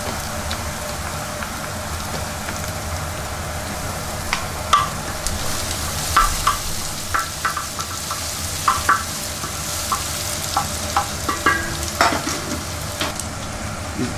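Ginger sizzles in hot oil in a pan while it is sautéed for hara bhara kebab, giving a steady frying hiss with scattered crackles and the clicks of stirring, close up and without talk.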